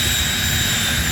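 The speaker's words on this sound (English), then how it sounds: "this is the same engine that was in that T-38 jet fighter trainer" A T-38 trainer jet engine mounted in a car runs at a steady, loud, close-up roar with a high whine, unbroken and without voices.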